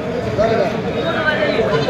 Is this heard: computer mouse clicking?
no